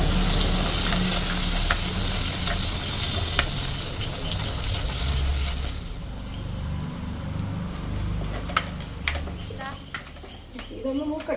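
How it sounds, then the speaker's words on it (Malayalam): Ginger and garlic frying in oil in a pan for a fishless fish curry: a steady hiss and sizzle through the first half, fading lower with scattered stirring clicks and scrapes later, while a person talks over it. "ഇഞ്ചിയും വെളുത്തുള്ളിയും ഒന്ന് മൂക്കണം."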